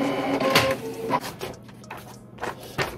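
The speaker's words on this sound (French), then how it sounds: "Ah oui, et le bordereau, évidemment, je vais l'imprimer direct." A printer runs off a shipping label for a packed parcel of resold sneakers, giving a few close, loud mechanical whirring and buzzing bursts over about three seconds, with short pauses between passes.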